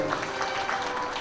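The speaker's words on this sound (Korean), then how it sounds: "여러분 큰 박수로 환영해 주시기 바랍니다" Brief burst of steady audience applause at the opening ceremony of an international art festival in Gwanghwamun, Seoul, a dense continuous clapping of a moderate crowd.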